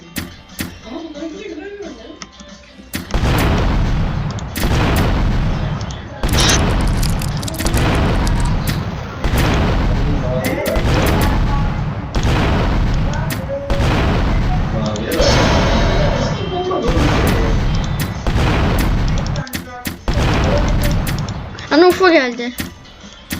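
Explosions and gunfire in the video game Revenge of Slimes 2 sound as a steady run of loud booming blasts and bursts for most of the stretch, with a player talking over the action.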